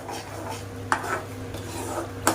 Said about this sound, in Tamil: ஒரு 10 to 15 minutes நம்ம வந்து கிளறிக்கிட்டே தான் இருக்கணும்.